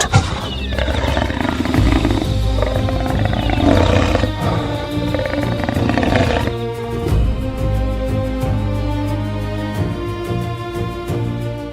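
A lioness attacking a calf in the Serengeti, with deep roaring growls mixed with animal cries and scuffling, loud and close, fading into softer sounds toward the end with no speech.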